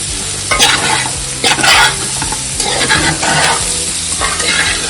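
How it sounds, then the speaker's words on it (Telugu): Chicken for a green chicken palav frying in a pan and stirred constantly, with loud, close scraping sweeps over a bright, continuous sizzle. "ఎక్కడి నుండి అడుగు అంటకుండా కలుపుకుంటూ ఉండాలి"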